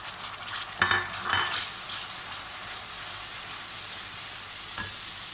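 Ground coriander, salt, ground cumin, red chili and turmeric frying in a pan for a kidney bean curry, with a steady faint sizzle and a few clinking stirs of a spoon, no talking.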